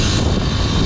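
A 250cc dual-sport motorcycle with an aftermarket exhaust, WR250R or TSE250R, revs briefly and loudly close by as a single deep, rough engine roar.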